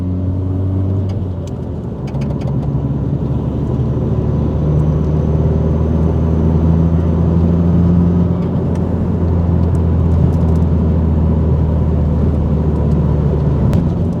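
Subaru WRX STI engine held near a low 3,500 RPM rev limiter on a first drive, giving a steady, droning in-cabin hum with repeated flat engine tone and slight fluctuations, no talking.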